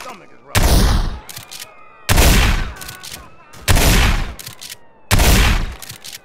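A 12-gauge shotgun in GTA fires four loud, booming shots at an even pace about 1.5 seconds apart, each with a long decaying tail and a brief mechanical rack or clack after it.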